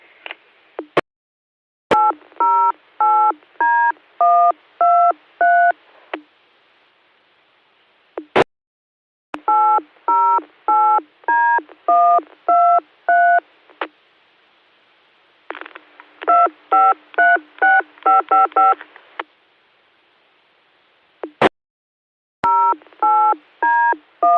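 Bursts of rapid DTMF touch-tone beeps jam an amateur radio repeater system in St. Augustine, Florida, arriving in repeated strings separated by silent gaps and sharp keying clicks.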